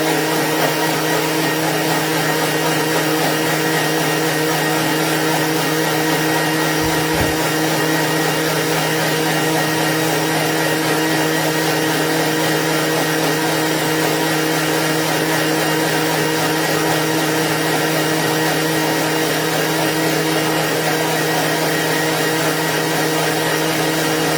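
A countertop blender whirs steadily as it mixes a smoothie in a home kitchen, a loud, even motor drone that runs unbroken for the whole stretch with no talking.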